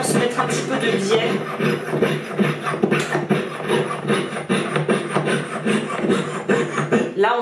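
A jeweller's saw blade cutting through a metal ring, giving a steady rhythmic rasping of rapid back-and-forth strokes that runs close and loud the whole time, with a voice talking over it.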